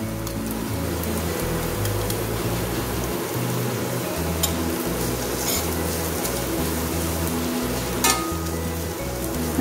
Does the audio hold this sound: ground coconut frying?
yes